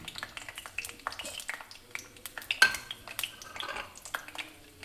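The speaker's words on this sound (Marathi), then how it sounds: "मी याच्यामध्ये भटई टाकत आहे." Bhatai broad beans tossed into hot oil in a pan clatter and tick against the metal with scattered scrapes and a faint sizzle, close and fairly quiet, with a voice talking over it.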